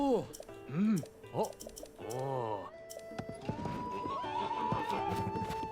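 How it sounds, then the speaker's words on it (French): In Zelda: Tears of the Kingdom, a running horse lets out several rising-and-falling whinnies and neighs, followed by quick clip-clop hoofbeats, with keyboard typing clatter and game sounds mixed in underneath. "Il y a un âne qui court."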